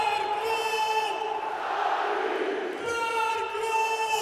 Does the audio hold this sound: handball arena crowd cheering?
yes